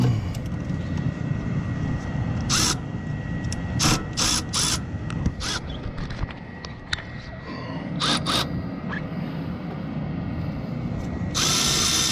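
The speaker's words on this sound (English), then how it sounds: "I'll get a wrench on that." Ratcheting wrench clicks in short quick runs during repair work on a Kohler generator, heard close over a steady background hum.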